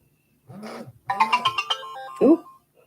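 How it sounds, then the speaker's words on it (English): A mobile phone rings indoors with a short run of bright melodic tones, preceded by a couple of softer buzzy bursts, near and fairly quiet in an otherwise silent room. "that was my phone going zzz, zzz."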